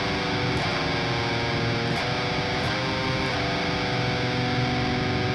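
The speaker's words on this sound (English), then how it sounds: "When played with distortion, these can have quite a sinister and doomy sort of sound" Heavily distorted electric guitar chugs through metal root-and-third power chords, a thick, dark wall of sound with several chord changes roughly every second, loud and continuous with no talking.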